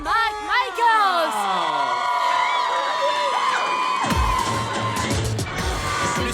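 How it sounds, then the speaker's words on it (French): A studio audience at a televised show bursts into loud cheering, whoops and shouts that swell midway and carry on, following rising vocal calls at the start. "Applaudissez le seul et l'unique Morgan Michaels!"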